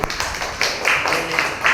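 A classroom of students claps for a group presentation in a short, close burst of scattered, uneven hand claps and taps that lasts under two seconds.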